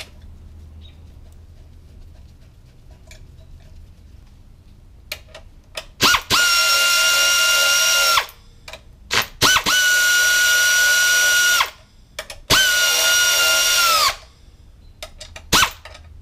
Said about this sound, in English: I'm hand threading the bolts before using the small air tools.